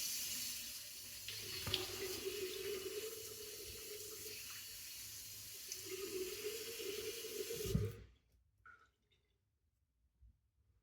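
A tap runs steadily into a bathroom sink while a straight-razor shave is underway, a close, continuous splashing stream that shuts off abruptly near the end, leaving near silence with a few faint clinks.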